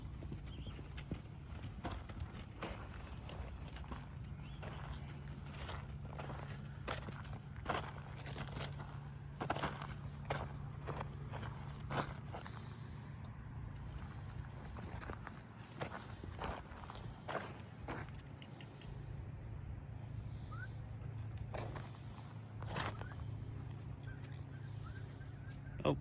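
A horse walks with steady, faint clip-clop hoofbeats over about half a minute, irregular at times, heard from a moderate distance with a low background hum and no talk.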